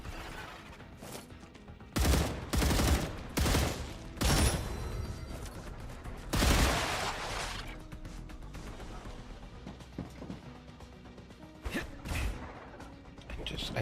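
Gunfire in the video game StarRupture comes in loud, heavy bursts of shots at irregular intervals, with quieter game ambience in between.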